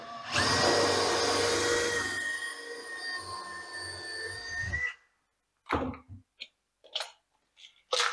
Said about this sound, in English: We'll put a third screw in.